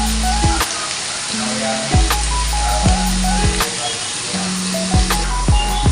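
Turmeric and chili powder spices fry in a hot pan for a dried bamas fish dish, a loud continuous sizzle broken by repeated scraping strokes of a spoon stirring the masala.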